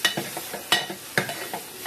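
Ghaatiya bhaaji sizzles in a pan while a spoon scrapes and stirs it in a few quick strokes, close and clear with no voices.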